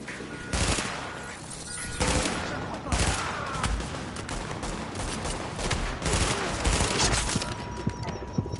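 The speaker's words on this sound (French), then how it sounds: "j'ai l'impression qu'il y en a un qui me tire dessus" Bursts of automatic gunfire and scattered single shots from enemies in The Division, loud and repeated throughout, with a voice speaking over the shooting.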